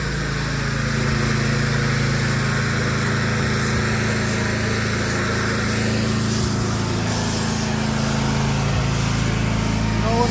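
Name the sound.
pressure washer engine running at turned-down revs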